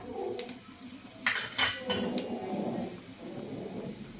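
Mustard seeds, cumin and dried red chilies are stirred in hot oil for a tempering, making a few sharp metal clinks and scrapes of a utensil against the pan over a low, faint sizzle.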